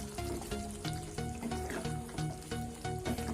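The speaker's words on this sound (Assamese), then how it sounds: "এইখিনি ভালদৰে লৰাই ল'ম" Chicken curry with garam masala is stirred in a hot pan with a dense, continuous sizzle and bubbling under rhythmic, regular scraping strokes, close and fairly loud.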